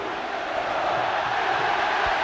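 Football crowd at a stadium during the 2013 Campeonato Baiano final between Vitória and Bahia, chanting at a stray dog on the pitch: a dense, steady roar of many voices, continuous and fairly loud throughout.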